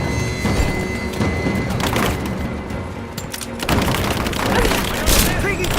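Rapid gunfire from a shootout in the video game Rise of the Tomb Raider, with bursts, thuds and impacts layered under a busy, dense battle mix and in-game voices.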